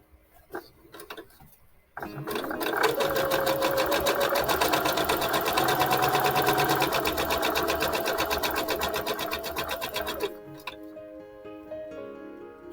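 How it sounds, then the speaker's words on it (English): A sewing machine stitches quilt fabric a quarter inch from a marked line, a fast, steady mechanical rattle starting abruptly after a few quiet clicks, running about eight seconds close up, then slowing and stopping with a softer whir. "we are going to sew 1/4 inch away from this line on both sides"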